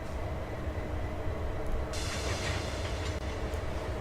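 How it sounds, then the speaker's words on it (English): A railway car being uncoupled by hand beside a stopped train, a steady low rumble with a brief burst of hissing air and metallic clatter partway through, heard up close with no talk. "Now I'm going to uncouple."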